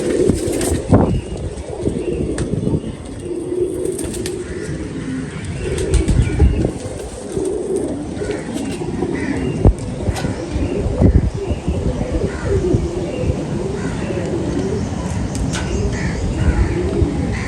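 Racing pigeons kept outdoors coo in low, repeated murmurs amid scattered wing flaps and rustling, a busy loft ambience with some indistinct talk in the background.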